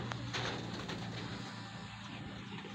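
A racing pigeon coos softly at the loft, several low throaty calls over a quiet hiss of background noise.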